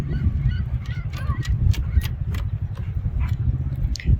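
Seagulls call at Big Spring, Idaho, in a string of short, scattered cries over a steady low outdoor rumble, moderately loud and fairly close.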